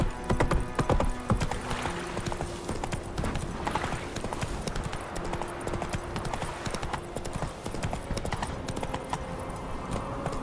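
A horse gallops in The Witcher 3 video game, its hooves drumming in a fast, continuous clip-clop, loud and close, with jangling tack and a brief whinny, and no speech over it.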